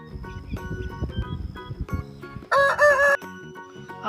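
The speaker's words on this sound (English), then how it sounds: "H for hen." A rooster crows once, loud and close, a bright drawn-out cock-a-doodle-doo of under a second that follows a stretch of light music in a children's alphabet song.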